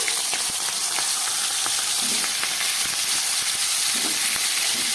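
Potatoes, cauliflower pieces and green chillies with cumin seeds and a bay leaf sizzle steadily in hot oil in a pan, a loud continuous crackle with small pops and occasional stirring clinks throughout.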